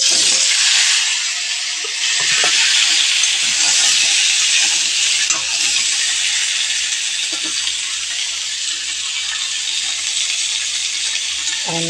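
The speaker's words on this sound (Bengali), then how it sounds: "বড়িটা ভাজা হয়ে গেছে, আলুটা আমি ভেজে নেব।" Potatoes frying in mustard oil in a kadai give a steady, loud, hissing sizzle that holds throughout with faint clinks underneath and no talking.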